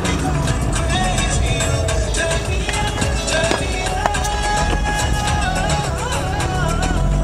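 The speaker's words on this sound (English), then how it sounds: "wide open throttle right now." Mazda RX-8 rotary engine at wide open throttle, a loud dense roar with rising whine and rattling road noise throughout, recorded close from inside the car.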